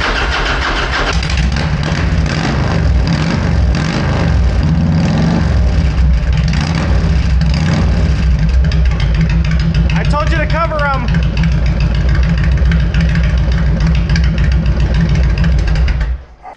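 A 2004 Harley Davidson Softail Heritage Classic with upgraded pipes starts and idles loud and close, with throaty lumpy rumbling and a few revs, and a voice speaks briefly partway through.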